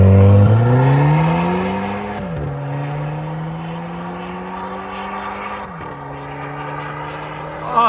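Stock 2012 Audi TTS with a 2.0L turbo pulling away hard, the loud exhaust climbing through two gear shifts, each shift marked by a sharp blow-off valve whoosh before the note settles into a steady, rising drone.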